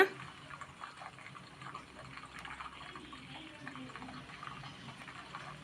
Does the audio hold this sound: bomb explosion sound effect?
no